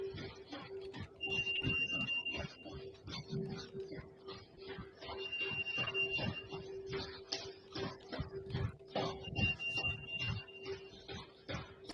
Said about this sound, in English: You hear the fire alarm going off?